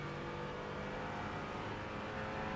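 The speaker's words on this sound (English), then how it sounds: "Faster car coming up quick." A Mercedes AMG GT4 race car engine in the iRacing video game roars steadily at high revs, loud and continuous, as it closes in fast at Daytona with no talking.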